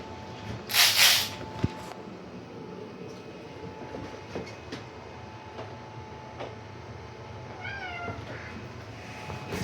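A cat gives a short, loud meow early on, then quieter chirping meows later over a steady rumbling, rattling background during a brake caliper rebuild on a 1982 Yamaha Maxim 750.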